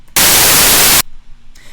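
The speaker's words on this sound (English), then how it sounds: "I'm going to set the waveform to white noise" A synthesizer voice set to a white noise waveform plays one sustained burst of loud, broadband hiss lasting just under a second, starting and stopping abruptly, with faint background hum before and after.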